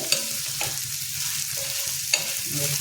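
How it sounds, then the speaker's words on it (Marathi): Onion frying in a pan until pink, a soft steady sizzle with a few sharp scrapes of a spoon stirring against the pan, no voices. "कांदा व्यवस्थित भाजून घ्यायचा आहे आपल्याला आता गुलाबी कलर होईपर्यंत"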